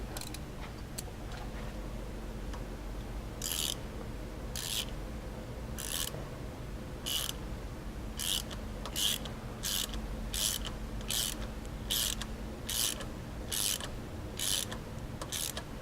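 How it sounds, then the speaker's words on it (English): A bolt cutting threads into a UHMW plastic bar on a Polaris RZR 900 four-seater, heard as a steady run of ratcheting, clicking bursts that repeat about every second over a low background hum. "right now, like I say, we're just cutting the threads"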